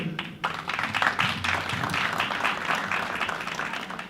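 Conference audience clapping for a newly introduced team member, a dense wash of applause from a crowd that starts sharply and holds steady at moderate loudness throughout.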